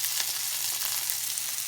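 Saltfish boils in a pot on a stove, giving a steady, faint bubbling hiss with no talk.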